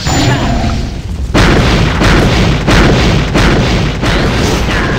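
Heavy booming spirit-attack explosions from the Stone Golem in the fighting game Rumble Fighter hit loud and close in repeated bursts roughly every second, each with a rumbling tail.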